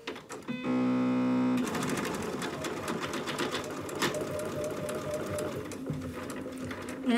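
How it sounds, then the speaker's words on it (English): A sewing machine runs a straight stitch along rickrack trim for a dog's collar, a brief quiet start then a fast, steady whirring hum that continues close and alone to the end. "I'm just gonna do a straight stitch right down the edge of the rickrack"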